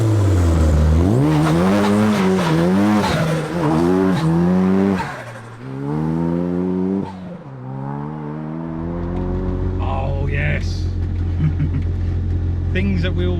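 A Ford Escort Mk2 fitted with a 2.3 EcoBoost engine from a Mk3 Focus RS drives hard, its engine loudly revving up and down in repeated surges with tyre noise, under near-constant talking, before settling into a steady low drone.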